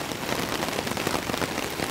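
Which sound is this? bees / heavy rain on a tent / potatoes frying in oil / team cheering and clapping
heavy rain on a tent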